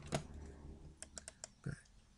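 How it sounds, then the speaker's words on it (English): A keyboard shortcut typed on a computer keyboard: a handful of quick, light key clicks in a short cluster, close and fairly quiet, with no one talking. "got to do it from the keyboard"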